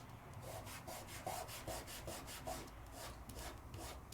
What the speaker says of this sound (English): So I'm burnishing outward, because I don't want the tape to roll back onto itself.